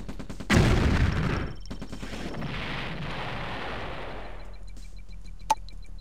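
Bombs exploding in Command & Conquer Red Alert Aftermath: one heavy, loud blast booms near the start, followed by a long rumbling decay and a smaller sharp crack later, with no talking.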